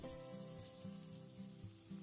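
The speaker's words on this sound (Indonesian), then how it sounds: "Ini langsung saya goreng, sebelumnya minyak sudah dipanaskan." Banana snacks fry in preheated oil over medium heat, giving a soft, steady sizzle and bubbling that stays low and continuous under a faint background hum.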